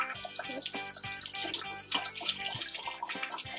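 Running water from a tap splashing over a makeup brush being rinsed and cleaned at a sink, a busy continuous trickle and spatter close by with no talking.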